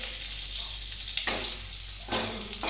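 Spices sizzling in hot oil in a kadai, a steady close frying hiss with brief louder bursts of crackle, over a low background hum.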